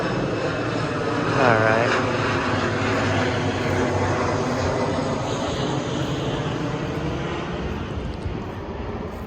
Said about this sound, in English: Hold on, there's a plane coming.